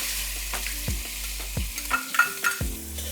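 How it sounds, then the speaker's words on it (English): Finely chopped onions hit hot oil with a crackling sizzle, accompanied by repeated clanks and scrapes of a utensil against the pan and a low hum underneath. "Now that the oil is hot, just add 2 medium onions that are finely chopped."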